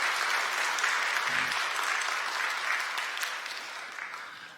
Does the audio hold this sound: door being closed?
no